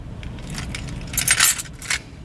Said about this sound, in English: Those are my keys.